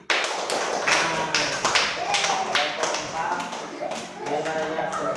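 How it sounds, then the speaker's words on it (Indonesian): Classroom applause from a group of students, a burst of scattered hand claps and taps that carries on steadily throughout, with some voices mixed in. "Beri tepuk tangan sekali lagi."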